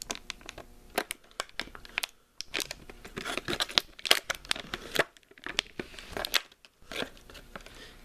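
Plastic base being pulled off a Papo Baryonyx dinosaur figure, a close series of sharp crinkling, snapping and crunching bursts with brief pauses between, no talking.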